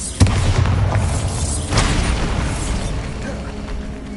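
A Bombarda spell goes off in Hogwarts Legacy with a sharp blast, then a second boom follows and a rumbling debris wash fades out.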